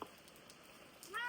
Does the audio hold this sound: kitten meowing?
yes